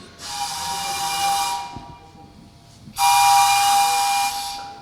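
A steam locomotive's whistle sounds in two loud, sustained blasts with a short hissy pause between them, close and clear, with no talking.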